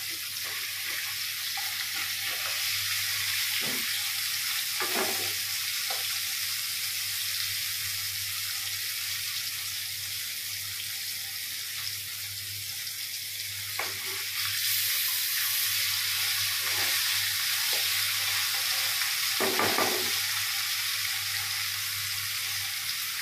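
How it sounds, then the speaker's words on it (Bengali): Hilsa fish fries lightly in a pan under a continuous, even sizzle with a low hum beneath it, broken by a few scattered spatula taps and scrapes. "একটু হালকা ভেজে নিচ্ছি ইলিশ মাছটা"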